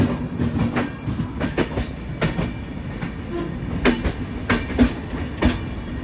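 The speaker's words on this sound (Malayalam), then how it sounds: "മധ്യപ്രദേശ് സമ്പർക്ക് ക്രാന്തിൻ്റെ ഒക്കെ സ്പീഡ് എൻ്റെ ഒരു രക്ഷയില്ല. 130 തന്നെ." The Madhya Pradesh Sampark Kranti Express rumbles along the tracks at about 130 km/h, heard from a sleeper coach, with rapid rhythmic clacks and sharp metallic bursts over a steady roar, loud and close.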